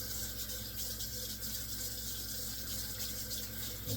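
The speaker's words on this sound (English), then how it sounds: "If you're done with the knife, wash it." A knife is washed under steady running tap water in a home kitchen, a continuous even splashing hiss throughout, fairly quiet, with no talking.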